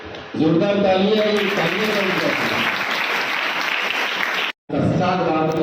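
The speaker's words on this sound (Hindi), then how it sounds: "जोरदार तालियां" Loud applause at a school function honoring a former student of a public school, a dense sustained clapping that begins under a speaking voice, cuts out abruptly near the end, then returns with talk over it.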